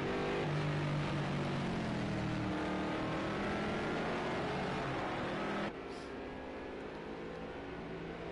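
GT3 race cars rumble through a formation lap at Bathurst, a continuous engine drone with shifting revs that stays steady and fairly close throughout, with a sudden drop in level near the end.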